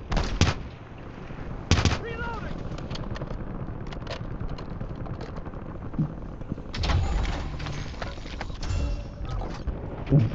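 Gunfire in the video game Warzone: several sharp close shots, one near the start, one around two seconds and a cluster later, over a continuous game background with voices talking.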